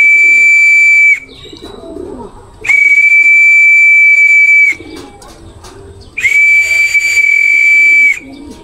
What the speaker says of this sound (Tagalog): Sinasanay ko lang sila sa pito.